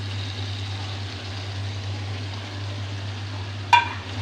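Chicken frying with melted tomatoes in a pan gives a soft, steady hiss over a low electrical hum, with one sharp clink of a utensil near the end.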